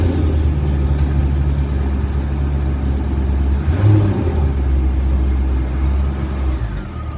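A C5 Corvette's engine rumbles steadily as the car is driven in slowly, a deep, close idle-like drone with a slight swell midway and no talking.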